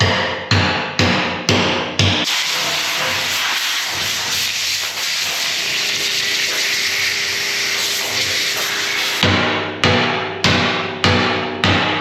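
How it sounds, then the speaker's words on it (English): A hammer drives a chisel between metal pieces on a budget Bobcat skid loader part. About five sharp, ringing strikes come first, then a long steady hissing rush, then another rhythmic run of about five blows, all loud and close. "I'm going to drive this chisel in here to separate the pieces of metal"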